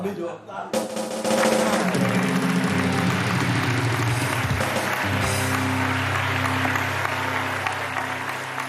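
On a Pakistani TV game show, the studio audience bursts into clapping after a short quiet lead-in and keeps going steadily, with bright musical tones and some voices mixed in.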